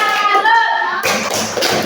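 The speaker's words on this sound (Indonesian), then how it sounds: "Berikan tepuk salut untuk kelompok A. Tepuk salut." Classroom children perform a 'tepuk salut' clapping routine for a group of classmates: a short chanted voice line gives way to a sudden burst of close, rhythmic hand claps that continues to the end.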